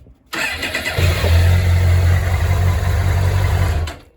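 A 1998 Suzuki GSX-R 750 motorcycle engine, already warm, cranks briefly then catches and settles into a loud, steady idle close by, cutting off abruptly at the end.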